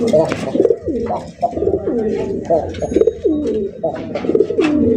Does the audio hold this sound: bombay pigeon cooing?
yes